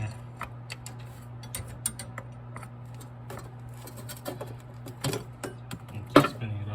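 A wrench clicks in quick, uneven ratcheting ticks while loosening the transmission filter on a 2003-2004 Honda Pilot, over a steady low hum, with one sharper clack near the end.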